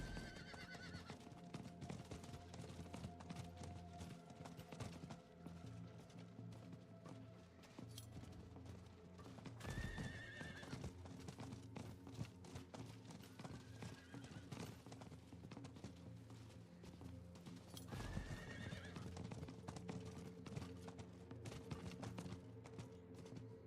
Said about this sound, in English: Riding my horse into the Search